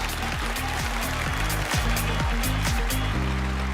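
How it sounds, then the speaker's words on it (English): Applause for pageant contestants at a beauty pageant's grand coronation night: steady crowd clapping, loud throughout, layered under driving background music. "let's give our ladies a huge round of applause"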